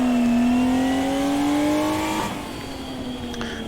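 A drifting car's engine revs high with rear wheels spinning, a steady rising whine that peaks, then drops abruptly as the revs fall away, close and loud with no talking.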